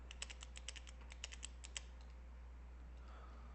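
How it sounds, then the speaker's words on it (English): A pen clicked repeatedly at a desk during a trading discussion, a quick irregular series of faint sharp clicks over steady electrical hum, then fading to quiet, with no talk. "I gotta stop clicking a pen."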